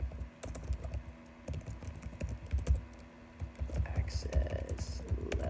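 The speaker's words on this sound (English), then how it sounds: "Let's type a function." A computer keyboard clatters with quick, irregular keystrokes close by while someone talks over it.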